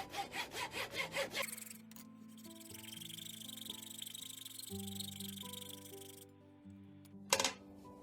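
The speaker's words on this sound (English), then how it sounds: "a hacksaw just because I need something with a thin blade" A thin-bladed hacksaw cuts across a wooden board with quick rhythmic strokes at the start, then gives way to a steady high insect-like chirring and a sharp knock near the end.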